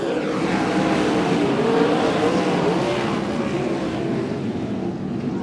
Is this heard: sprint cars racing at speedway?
yes